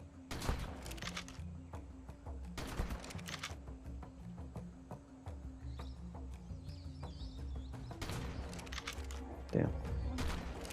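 Shotgun fired in ARK: Survival Ascended, several loud sharp blasts in separate bursts spread across the clip, with someone speaking briefly between shots and faint ambient game sounds underneath.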